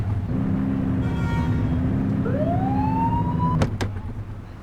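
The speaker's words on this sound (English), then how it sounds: "Get on their tail and blip the siren." In the police game The Precinct, a patrol car's siren chirps in a short wail that rises and then cuts off abruptly, with two sharp blips at the end and a car engine humming underneath.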